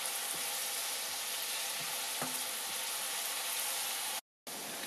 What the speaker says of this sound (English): we have the onions and the garlic kind of boiling, not to turn their color